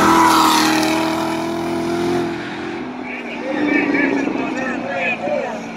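A 750-horsepower race car engine roars at a racing event, loud and close at first, then fading away as it pulls off, with crowd noise and voices underneath.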